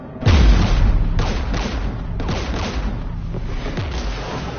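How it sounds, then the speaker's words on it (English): Heavy booms and sustained gunfire from a Mass Effect 3 battle near a jamming tower guarded by Geth anti-aircraft guns: a deep blast opens, then dense rumbling fire and repeated impacts roll on loudly for several seconds, with no talk. "We're taking fire."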